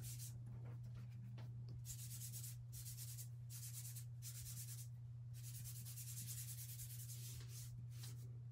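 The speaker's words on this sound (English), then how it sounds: "I'm just going to kind of rub them into the cardstock" A fingertip rubs soft pastel chalk into cardstock, giving a soft, steady hiss of friction. It comes in repeated strokes of varying length over a constant low hum, close to the mic, with no talking.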